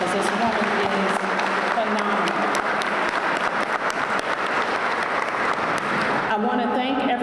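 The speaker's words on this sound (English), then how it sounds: "I want to give her another round of applause" An audience at a summer program closing ceremony for a public safety career pipeline applauds steadily, with dense, continuous clapping filling the whole stretch and a few cheers mixed in.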